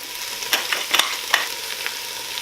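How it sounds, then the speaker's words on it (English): Onions cook with bones in a pot, sizzling softly while a utensil scrapes fond from the bottom in a few sharp, close strokes. "Cooking the onions with the bones is going to add a lot of flavor, and make sure to scrape off all that fond off the bottom."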